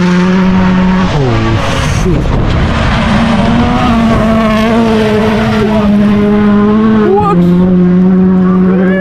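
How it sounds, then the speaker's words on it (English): A Hyundai WRC rally car at the Safari Rally in Kenya races past close and loud, its engine note rising and falling through gear changes and revs, with spectators' voices underneath. "That's a Hyundai, bro."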